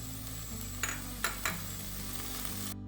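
Stirring biryani ingredients with mint and coriander leaves in a pan, heard as a steady sizzling fry with a few brief scraping strokes, ending in a short moment of silence.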